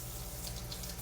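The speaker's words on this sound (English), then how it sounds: "rinse my hand" Tap water runs steadily into a kitchen sink as hands are rinsed during casserole preparation, a close, continuous splashing hiss lasting about a second.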